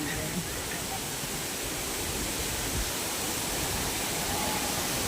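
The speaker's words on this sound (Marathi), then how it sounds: "हे इकडून वरतून पाणी येतं बघू शकता तुम्ही" A waterfall roars in a steady, dense rush of water falling from above into a deep drop, constant and loud throughout with no breaks.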